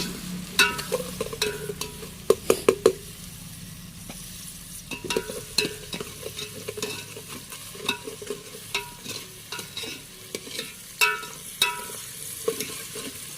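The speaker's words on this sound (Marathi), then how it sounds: "आता आपण याच्यामध्ये कांदा परतून घेऊ मस्तपैकी तेलामध्ये." Onion sautés in oil for a spicy fish curry, a continuous close sizzle broken by frequent sharp scrapes and clacks of a spoon stirring against the pan.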